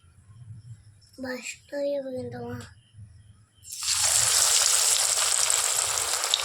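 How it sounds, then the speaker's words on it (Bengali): Egg tikka pieces going into hot oil, a bright broad sizzle that bursts up and carries on loud and steady after a woman's short remark. "এবার এগুলোকে আমি তেলে দিয়ে দেবো।"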